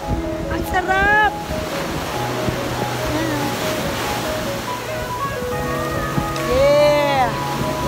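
Big ocean waves roar and wash steadily amid wind at a beach in Pangasinan, Philippines, with people cheering and calling out excitedly over the surf.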